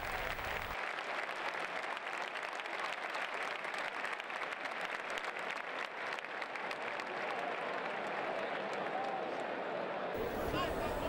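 Bullfight crowd breaking into an ovation, sustained loud applause and clapping from a large arena audience, rising and holding for several seconds before cutting off.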